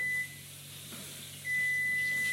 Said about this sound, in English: Oh, that's our timer for our eggs.